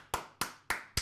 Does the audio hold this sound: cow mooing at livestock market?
no